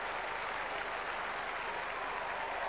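England supporters in a cricket crowd applaud a batting shot, steady, even clapping from a large distant audience that holds at one level throughout.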